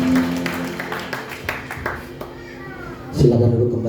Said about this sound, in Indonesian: Berikan tepuk tangan untuk nama Yesus.